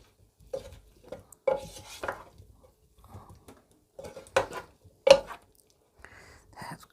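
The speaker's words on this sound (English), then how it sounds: "We'll give it a stir." Tinned potatoes and spring onions stirred in a wide air fryer pan, a few scattered scraping and clattering strokes of a utensil against the metal, close and intermittent with quiet gaps between.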